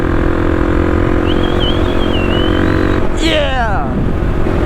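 A Kawasaki KLX300 dual sport motorcycle being ridden in Mexico, its engine a loud, steady drone under rushing wind, with a rising and falling rev swing near the end.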